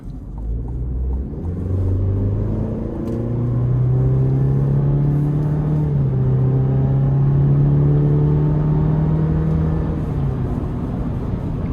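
A 2026 Chevy Colorado LT 4WD pickup accelerates onto an interstate, its engine note climbing through gear changes, loud, close and steady from the cabin, with no voices.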